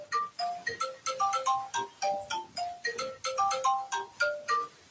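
A phone alarm plays a bright, repeating ringtone melody, a quick sequence of chiming notes cycling steadily and moderately loud, with no talking over it.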